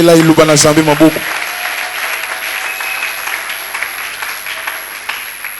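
A church congregation breaks into applause after a short spoken exhortation from the preacher, the clapping starting under the voice and carrying on alone as a steady mid-level patter that slowly thins out.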